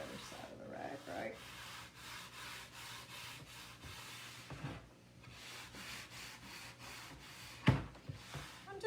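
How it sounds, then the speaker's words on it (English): A rag wipes excess wax off a wooden chalk-painted porch sign in soft, continuous rubbing strokes, faint and close, with one brief louder knock near the end. "we're going to kind of wipe that excess wax off now"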